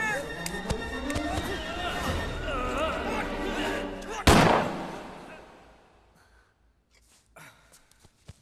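A single sharp gunshot cracks out abruptly in a Hindi comedy film after loud overlapping voices and music, then the scene drops to near silence with a few faint knocks.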